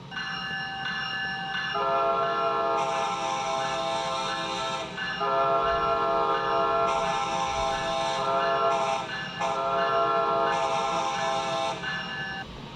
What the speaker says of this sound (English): It's got new horns and stuff, so let's test it out.